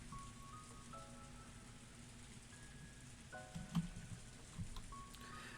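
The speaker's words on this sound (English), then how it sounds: "I waited for God to do something while the rain poured down on me" Steady pouring rain in the Higurashi visual novel, a soft continuous hiss running throughout, with faint chiming musical tones layered over it.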